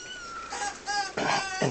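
Four young kittens about five weeks old meowing indoors: a few short, thin, high-pitched mews in quick succession, fairly faint and close.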